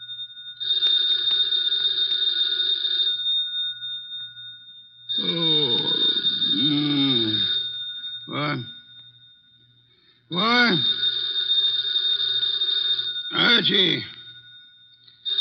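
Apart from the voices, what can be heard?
telephone bell ringing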